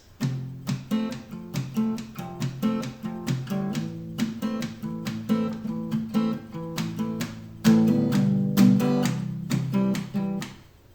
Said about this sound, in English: I'm going to go through the parts again at full speed with the palm muting